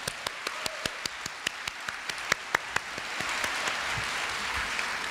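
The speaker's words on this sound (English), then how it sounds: "Please give each other a big round of applause." Large crowd of students at a Korea University opening ceremony applauding; a few distinct close claps ring out at first, then the clapping swells into a dense, steady wash.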